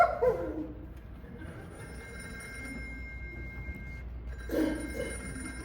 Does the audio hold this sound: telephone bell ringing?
yes